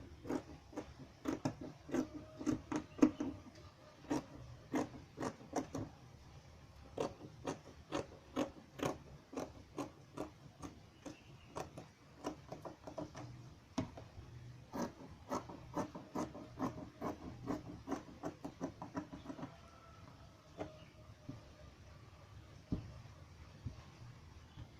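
Scissors cutting out fabric for a gathered yoke top make a quiet series of crisp snips in an irregular, fairly steady rhythm. The sound is close but soft, with no talking.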